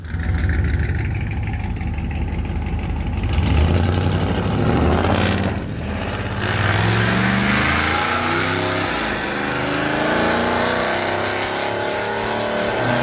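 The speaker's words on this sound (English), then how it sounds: "a Hellcat 700 horsepower power plant and a Winnebago isn't very practical, but it sounds like a good time" A 700-horsepower Hellcat Hemi V8 fitted in a Winnebago RV revs hard, then settles through rising and falling throttle sweeps and idling, loud and close with no talk.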